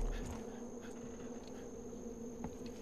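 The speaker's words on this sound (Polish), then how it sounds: "Pszczoły mnie atakują." A swarm of bees attacks in the video game Far Cry 5, with a continuous faint insect buzz carried under steady low game ambience.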